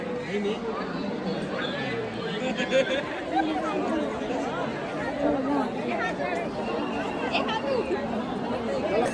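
Steady crowd chatter and murmuring voices fill the space around a busy temple in Vrindavan, a dense continuous babble with no single voice standing out.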